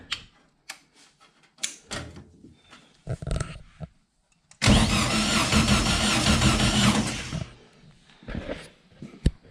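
A rebuilt buggy engine cranks over in one sustained, loud, rapid chugging burst of about three seconds without catching, preceded and followed by scattered clicks and clatter.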